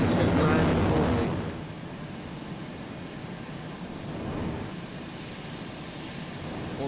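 Aircraft engine droning steadily during an autopilot landing in Arma 2, with a louder rumble at the start settling into a continuous mid-level hum.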